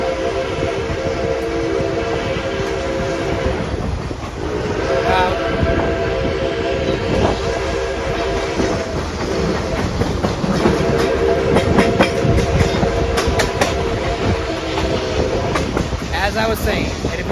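The NKP 765 steam excursion train rumbles steadily along on a fall color run, with constant loud rail noise, clickety-clack from the cars and whistle tones coming through. Voices talk faintly beneath it.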